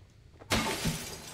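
Glass shattering in the video game Little Nightmares II, a single sudden loud crash of breaking window or door glass followed by a brief ringing scatter of shards after a quiet lead-in.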